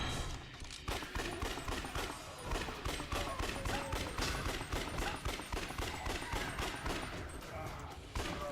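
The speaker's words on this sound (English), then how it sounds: "Pistols definitely do more damage now." Rapid pistol gunfire rattles nonstop in the action game Yakuza: Dead Souls, a dense, even stream of shots carrying across the whole stretch over busy game background noise.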